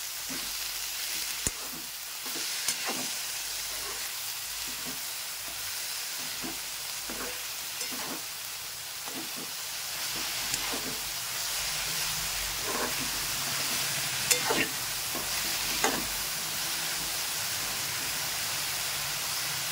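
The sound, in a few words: frying radish pod curry with salt in pan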